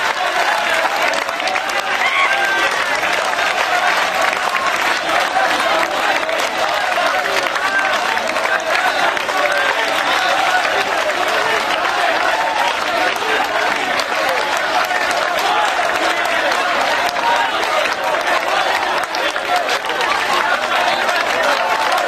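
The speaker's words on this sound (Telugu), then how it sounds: "మళ్ళీ తిరిగి వస్తున్న పోలీసులకు చప్పట్లు కొడుతూ ఎగతాళి చేస్తున్నారు పిల్లలు." Children at a protest in Delhi clap steadily to mock returning police, a dense and continuous wash of applause with crowd noise and voices mixed through it.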